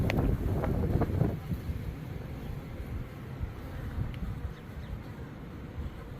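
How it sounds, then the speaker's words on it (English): Strong gusts of wind buffet the microphone outdoors beside honeybee hives on a very windy day, a loud, low rumbling roar at first that settles into a steadier, softer whoosh. "I want to apologize if there's a bunch of wind noise. It's just crazy windy today."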